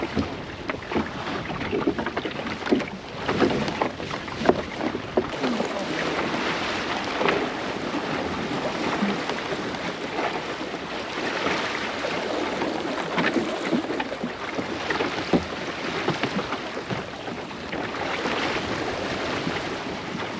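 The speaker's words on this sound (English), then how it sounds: "The wind's kind of going round a bit as well." Wind blows around a sailboat at sea in the Netherlands, a steady rushing gust noise with water sloshing against the hull, continuous and fairly close throughout.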